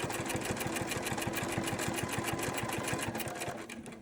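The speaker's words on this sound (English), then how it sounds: "Then we put our presser foot back down and we stitch" A sewing machine stitches around quilt fabric for a cathedral window quilt, its needle running in a fast, steady rhythmic chatter close by, slowing slightly at the end.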